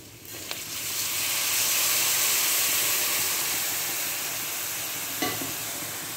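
Milk poured into a hot pan of spiced poha base sets off a loud, steady sizzling hiss that swells, holds, then slowly eases, with a single small clink near the end and no voices.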